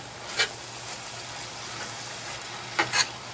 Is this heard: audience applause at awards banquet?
no